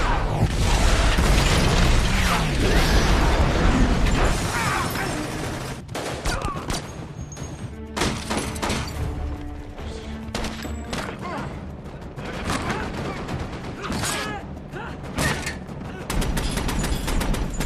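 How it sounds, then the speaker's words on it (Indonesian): A film shootout fills the soundtrack with loud, sustained gunfire bursts, rapid volleys and booming explosions, dense and continuous throughout. "di sana baku tembak pun tidak dapat terhindari lagi"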